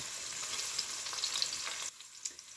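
Onion and garlic sauté in a soup pot with a steady, close sizzle, occasional stirring clicks, then the frying drops quieter near the end.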